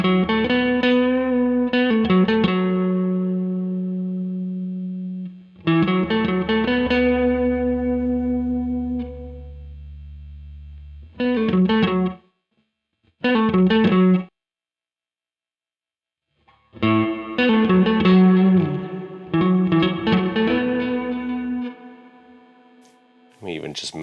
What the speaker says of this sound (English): Decay controls how long the reverb's going to go for.